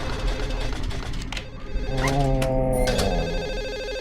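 A telephone rings in the Silent Hill 4 video game, its bell tone mixed into a dense, continuous bed of other game sounds with gliding tonal swoops.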